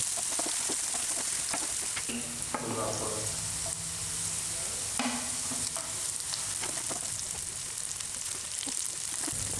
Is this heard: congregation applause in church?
no